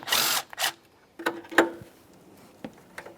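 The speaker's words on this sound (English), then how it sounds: "Let's start removing that bolt." A ratchet or hand tool working a 10mm mounting bolt on the starter of a 2009–2014 Nissan Maxima 3.5L V6, in short separate clicks and scrapes with brief pauses, close and moderately quiet.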